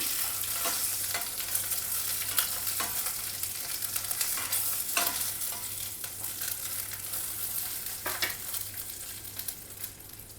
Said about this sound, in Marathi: तर आता वांगी टाकूया आता वांग परतून घेऊया आपण या तेलावरती